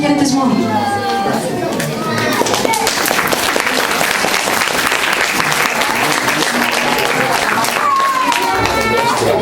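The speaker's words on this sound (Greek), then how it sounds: "Χειροκροτήστε λοιπόν τα παιδιά που πόπιασαν για να σας παρουσιάσουν τη μικρή αυτή γιορτή" An audience applauds children at a nursery school Christmas celebration, loud sustained clapping from a crowded room with high children's voices and chatter mixed in, fading slightly toward the end.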